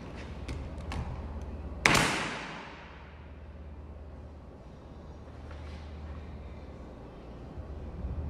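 An air-powered staple gun driving staples into wood on a table, a single sharp close snap followed by a decaying ring over a quiet room hum, with softer taps before it.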